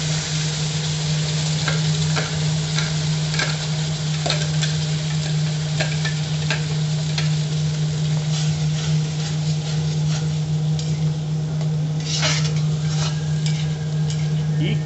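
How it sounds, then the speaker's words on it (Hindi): Onions and cumin fry in hot oil for a Diwali besan sabzi, a loud, continuous sizzle with scattered crackling spatters throughout and a steady hum beneath, no talking. "अब डालेंगे प्याज, थोड़ा दूर हट जाए क्योंकि तो पिछली बार की तरह ये छक्का मारेगा।"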